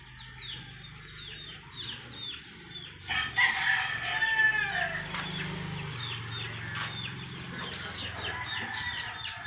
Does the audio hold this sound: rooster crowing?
yes